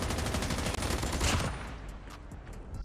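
Rapid automatic gunfire from a hip-fired Chopper machine gun in Call of Duty Mobile, a dense, loud burst of shots that tails off into a few scattered rounds.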